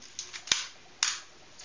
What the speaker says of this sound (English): shutter's open, shutter's closed. That's the action of the shutter.